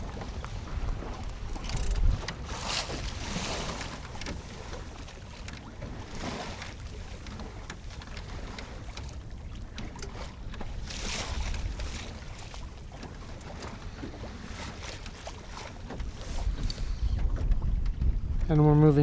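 Steady wind rushes and gusts around a Florida 120 sailboat sailing close-hauled, broadband buffeting on the microphone with water wash beneath, growing louder toward the end.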